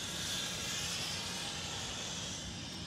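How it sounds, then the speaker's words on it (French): Zipline riders in Montreal whizzing along a cable, heard as a steady broadband whoosh and hiss that holds constant throughout, fairly loud with no talking. "Il y a des gens qui font de la tyrolienne, juste là."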